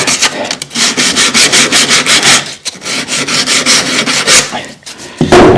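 Rhythmic back-and-forth scraping of sandpaper on wood, about a dozen quick strokes with a short pause midway, close and loud.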